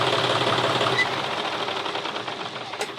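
A John Deere 5310 tractor engine being repaired runs steadily at low speed, a continuous close, busy mechanical clatter with rapid knocking pulses and no voices.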